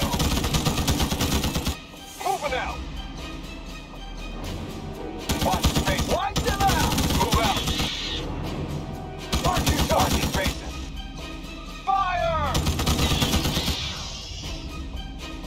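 Soldiers fire rapid bursts of rifle gunfire in the Starship Troopers: Terran Command strategy game, loud overlapping volleys in several spaced waves with creature shrieks between them.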